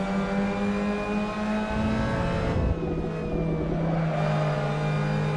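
A steady, loud race car engine drone in the video game Assetto Corsa at the Nürburgring hums continuously, its pitch shifting slightly as it revs, with a brief rumbling surge midway.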